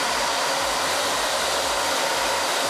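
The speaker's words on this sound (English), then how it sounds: "This is actually a treatment hair dryer, so it helps smooth it through" A treatment hair dryer runs steadily while smoothing hair, giving a continuous close, loud broadband whoosh with no voices.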